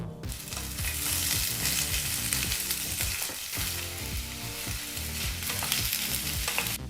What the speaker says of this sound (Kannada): ಈಗ ಮೀಡಿಯಂ ಫ್ಲೇಮ್ನಲ್ಲೇ ಸರಿಸುಮಾರು ಐದರಿಂದ ಆರು ನಿಮಿಷ ಈ ಪದಾರ್ಥಗಳನ್ನೆಲ್ಲ ಚೆನ್ನಾಗಿ ಹುರ್ಕೋಬೇಕು